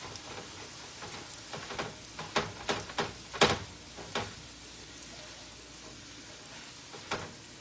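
Seasoned meat cooking in a pan for pork rinds and cheese tortillas, a faint steady sizzle broken by a string of sharp pops and spatters in the middle, close and without voices.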